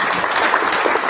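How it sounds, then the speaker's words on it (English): An audience at a talk on civility claps steadily, a short, even burst of many hands at moderate distance. "How about some clapping?"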